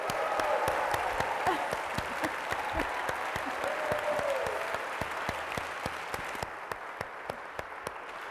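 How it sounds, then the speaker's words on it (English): Audience applause during an on-stage conversation at Harvard with Conan O'Brien, sustained clapping from a large crowd with sharp individual claps standing out, steady throughout and easing slightly toward the end. "how about another round of applause for him?"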